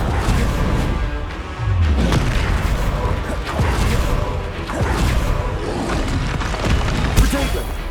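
Repeated booming spell blasts from the Confringo curse in Hogwarts Legacy, dense and loud throughout, layered with whooshes and crashes of combat magic, with a voice talking over the action.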